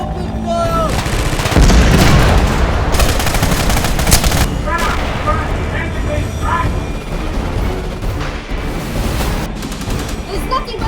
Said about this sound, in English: Everybody, open fire!